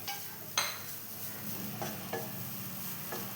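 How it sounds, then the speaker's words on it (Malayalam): Grated coconut is stirred and roasted in a pan with a soft, steady sizzle, broken by several sharp scrapes of a spoon against the pan at irregular intervals, close up with no talking. "ഈ തേങ്ങേൻ്റെ വെള്ളം അറുന്നത് വരെ ഒന്ന് വറുത്തെടുക്കാം"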